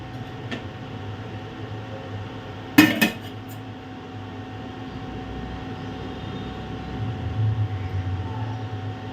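Pots and dishes are picked up for washing, with one brief, loud metallic clatter of cookware over a low, steady background hum.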